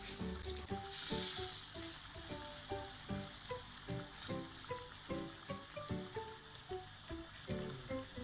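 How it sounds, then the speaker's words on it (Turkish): Eggplant slices coated in egg and flour fry in oil, a steady close sizzle with soft rhythmic bubbling pops and a faint hiss, no voices. "Patlıcanlarımız kızardı önlü arkalı"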